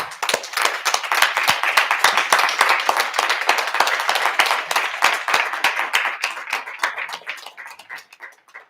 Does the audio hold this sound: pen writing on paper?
no